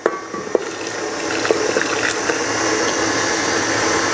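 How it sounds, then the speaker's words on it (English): Rose water poured into a butter mixture while cooking for a Nowruz festival, a steady liquid trickle with a few faint clinks, running continuously at moderate level with no talk. "now you're gonna go ahead and you add your rose water"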